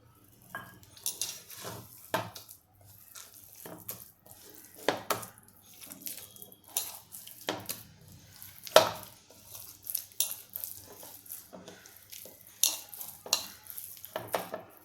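Besan dough for papdi being kneaded by hand, heard as soft irregular slaps, squishes and clinks close by, with no talk.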